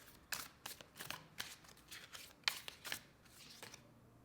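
Oracle cards are shuffled close by in soft, quick riffling bursts about every half second, faint and papery against a quiet room.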